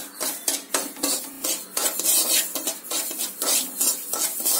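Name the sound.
stirring and frying semolina in a kadai pan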